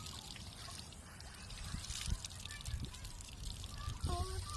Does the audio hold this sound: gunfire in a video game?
no